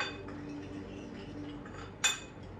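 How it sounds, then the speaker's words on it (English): A spoon stirs powder ingredients for a turmeric face mask in a small bowl, making soft, continuous scraping with a single sharper clink near the end. "So I will just first mix the powder ingredients."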